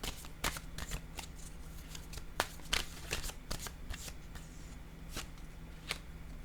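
A deck of tarot-style cards is shuffled by hand, giving a run of crisp riffling and slapping bursts at an irregular rhythm, close up and moderately loud over a faint low hum, with no voices.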